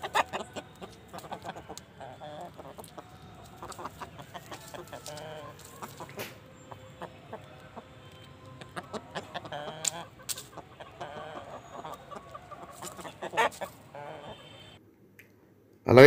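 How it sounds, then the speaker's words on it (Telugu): A Bobbili breed hen clucking in short repeated bursts, with other fowl calling nearby, moderately close over a quiet outdoor background with faint voices. "ఇక్కడ కనిపిస్తున్న పెట్ట వచ్చేసి ఇది ఒరిజినల్ బొబ్బుల టేకరాల్లో పెట్టని చెప్పన్నారు"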